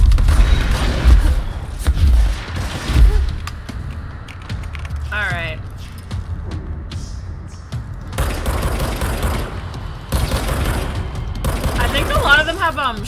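Bursts of gunfire and heavy shotgun booms in the video game Control come in irregular clusters, mixed with mechanical clicks and short electronic effects.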